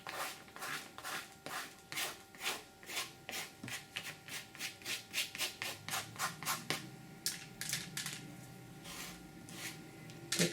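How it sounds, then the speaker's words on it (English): A knife blade scrapes wet paint across paper in a painting craft, a steady run of quick rasping strokes, close and fairly quiet, repeating in an even rhythm with no talking. "I'm going to use my knife to scrape."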